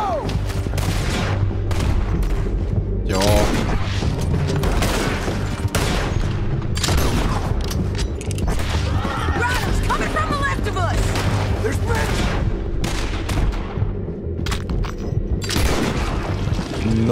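Dense rifle gunfire in Red Dead Redemption 2, with repeated loud shots and booming reports packed closely together across a long shootout as people talk over the noise.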